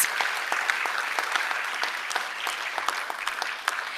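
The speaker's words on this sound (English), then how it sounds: "let's give all of our robotics teams and their sponsors another big round of" Audience applause for school robotics teams and their sponsors at a school board meeting, a steady wash of hand claps lasting about four seconds with no talk over it.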